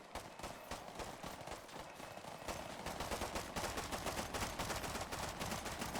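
Rapid gunfire from Fallout 4 rattles in dense, continuous bursts, loud and close, building in intensity toward the end with no voices over it.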